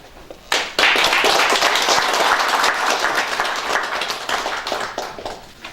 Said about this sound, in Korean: 박수로 격려하여 주시면 감사하겠습니다